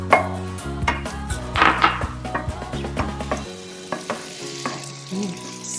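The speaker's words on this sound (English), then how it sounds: "I'm going to add some butter to add buttery flavor." Butter sizzling in a pan with mushrooms for chicken mushroom pasta, a close crackle broken by sharp utensil taps and clinks, a low hum fading out midway.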